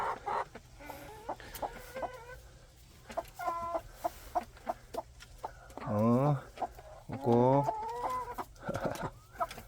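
Chickens, including Araucana-type hens, cluck and squawk inside a rural coop on a freezing winter day, with repeated close calls and a few louder drawn-out squawks rising over low background noise.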